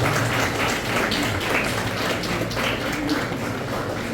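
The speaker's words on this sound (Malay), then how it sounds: "Tepuk tangan." Audience applause at a school achievement and awards programme, a hall full of people clapping densely and steadily for several seconds, loud and close, with no talk over it.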